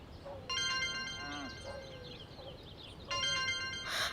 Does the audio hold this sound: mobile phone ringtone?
yes